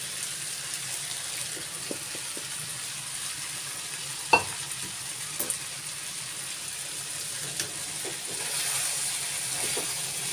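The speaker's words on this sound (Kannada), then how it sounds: "ಈಗ ನಾನು ಈ ರವೆಯನ್ನು ಇಲ್ಲಿ ಸೇರಿಸ್ಕೊಳ್ತೀನಿ." Semolina fries with vegetables in a pan for an onion-free vegetable upma, a soft ongoing sizzle under a few scattered scrapes and taps of stirring, one sharper knock near the middle, quiet and close with no talking.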